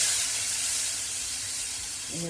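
Water poured into a pan of sautéed ground green chili sizzles and hisses steadily for a couple of seconds, a broad close spray of steam with no talk over it.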